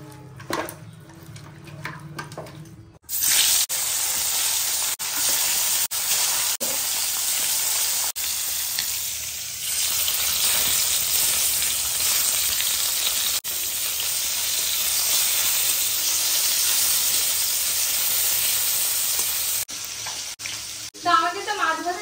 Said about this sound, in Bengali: এবার চলো মাছগুলো মেখে ভেজে টেজে নিই